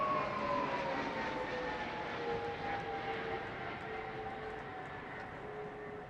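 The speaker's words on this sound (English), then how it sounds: "Our Voyager, operated by 10 and 101 Squadrons based at Royal Air Force Bryce Norton, is primarily used for both air-to-air refuelling and strategic air transport." An RAF Voyager air-to-air refuelling and transport jet flies over London, a loud continuous engine roar with a slowly falling whine that fades gradually as it passes.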